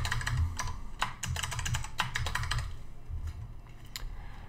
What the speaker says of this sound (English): And then I'm going to type in the password here.